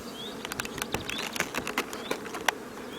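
Honey bees swarm between the frames of a strong, crowded colony, a busy buzzing hum broken by scattered light taps and patters, fairly quiet and close, with no speech.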